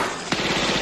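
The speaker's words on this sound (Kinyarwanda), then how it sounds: "Wari mu ndege nawe afata imbunda. Arasa Jackie arakwepa." A gun fires aboard an aircraft in an action film: a loud, close machine-gun burst of rapid shots that breaks in abruptly after a brief lull.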